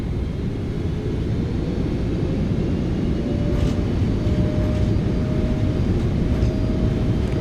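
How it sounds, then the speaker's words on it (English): Simulated Boeing 777F thrust reversers on landing rollout in the PMDG flight simulator produce a steady, loud broadband roar with a low rumble and a faint whine, sustained evenly without talk. "Reversers are out. Decelerating."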